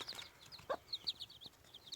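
Faint high peeping of chicks chirps in quick, scattered bursts, with a soft hen cluck nearby and light background noise.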